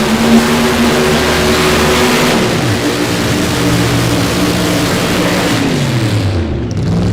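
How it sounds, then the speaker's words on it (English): A funny car drag racer does a burnout during Friday night qualifying at the Summer Nationals at Cordova Dragway. A loud, steady engine roar fills the whole stretch, with the pitch shifting slightly as it holds. "putting up the big smoke show with the burnouts"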